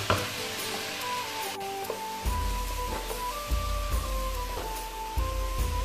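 Chicken with coriander powder, white pepper and black pepper sizzles as it fries for white korma, a soft steady crackle under background music.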